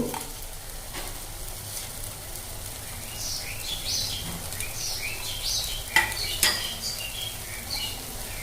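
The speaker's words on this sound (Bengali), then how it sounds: "এবার একটু নেড়ে নেব" Fried spice paste sizzles and crackles steadily in a hot pan as it is stirred for a green pea filling, with occasional sharp clinks of a utensil against the metal.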